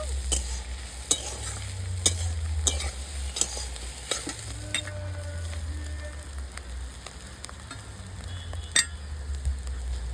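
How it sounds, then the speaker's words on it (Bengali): Puffed rice is stirred in a hot pan with scraping strokes and soft sizzling, punctuated by sharp clicks of the utensil against the pan. "মুড়িটা দিয়ে এইভাবে ভালো করে মিশিয়ে নেব"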